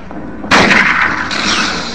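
A rifle gunshot in the video game Silent Hill 1: one loud, sharp blast that stays close, followed by a long, bright ringing tail that carries to the end.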